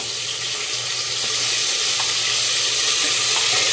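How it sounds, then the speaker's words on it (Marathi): Ginger garlic paste sautéing with onions in a pan for a Maharashtrian matar pulao, a steady broadband sizzle with faint scraping of stirring, continuous and close with no talking. "आणि 2 मिनिटं परतून घ्यायचे। पेस्ट परतून झाली आपली।"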